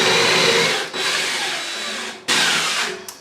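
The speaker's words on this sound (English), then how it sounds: "so we're gonna drill it." A power drill bores a hole through a mounting spot for a barn door track, a steady loud whirring grind broken by two brief pauses as the bit stops and restarts.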